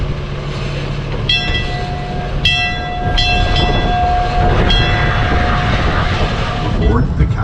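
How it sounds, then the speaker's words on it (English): Calico and Odessa Railroad tourist train in motion, a steady rumble of running gear with whistle-like tones and sharp metallic squeals and clanks, sustained over a continuous background of engine noise. "Aboard the Calico and Odessa Railroad."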